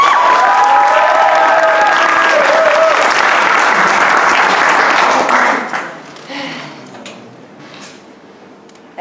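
A theater crowd at Teatro Lo Spazio applauds loudly and steadily after a poetry slam performance; the clapping holds at full strength for several seconds, then thins out and fades to scattered claps and room murmur.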